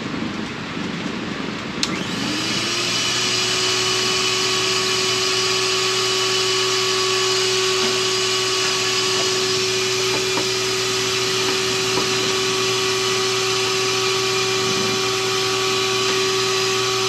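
A vacuum seeder for sowing small treated seeds switches on after about two seconds, then holds a steady, loud motor whine and hum with a constant pitch for the rest of the clip.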